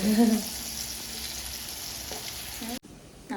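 Small fish frying in hot oil in a pan give a steady, close crackling sizzle, which cuts off abruptly near the end.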